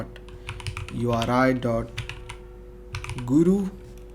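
Keys clack on a computer keyboard in short bursts of light, quick taps, partly under someone talking.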